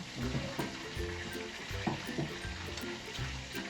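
Kangkong and Malabar spinach frying in a pan, a steady soft sizzle with faint stirring clatters, heard quietly and at close range.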